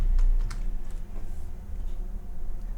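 Typing on a computer keyboard: a handful of quiet, close key clicks in quick succession at the start, then soft, sparser taps over a low room hum.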